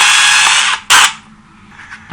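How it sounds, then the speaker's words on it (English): An impact driver or drill removes screws from a towel bar. It makes a loud, close whirring burst, cuts off, gives a second short burst, then drops to quieter handling noise. "I like using an impact or a drill here"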